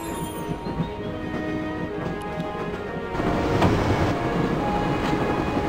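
Train running in the Broken Sword: Shadow of the Templars Director's Cut adventure game, a steady rumbling rattle of rolling carriages that grows a little louder partway through, with no talk over it.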